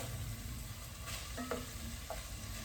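Onions and whole garlic cloves cooking in a pot for white turkey chili, a steady soft sizzle with a couple of faint utensil taps, quiet and without talk.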